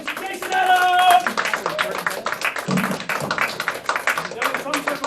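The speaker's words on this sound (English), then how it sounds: "Give him a big round of applause, Mr. Jason Adams!" A theatre audience at a comedy magic show claps for a magician, a burst of fairly close, scattered applause mixed with cheering and talking voices.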